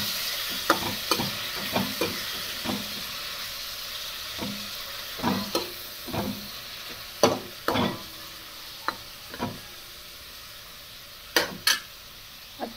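Cabbage is stirred in a pan, with a series of sharp, separate scrapes and clinks of a spoon over a faint, low sizzle, close and fairly quiet.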